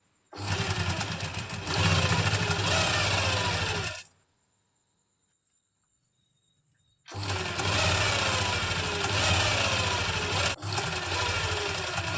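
A sewing machine runs a loud, steady, close-up rattling stitch while joining the front and back of a palazzo, stops for about three seconds of near silence, then resumes the same whirring stitch.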